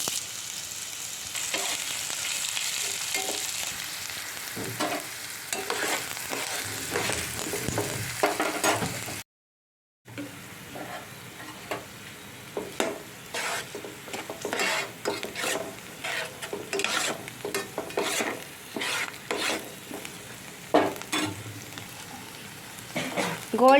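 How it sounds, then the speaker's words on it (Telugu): Chopped onions fry until golden brown in a pan with mustard seeds, cumin and curry leaves, giving a continuous sizzle with frequent scraping stirs of a utensil against the pan and one brief break. "గోల్డెన్ బ్రౌన్ కలర్ వచ్చేంత వరకు ఫ్రై చేసుకోవాలి ఆనియన్స్ని"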